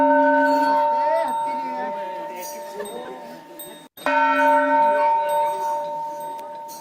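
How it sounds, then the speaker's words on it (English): Temple bell ringing with long sustained metallic tones, struck again near the middle and left to ring out, steady and moderately loud with a shimmering decay. "the exact sound that I was listening to was that of a bell sound, a temple bell sound"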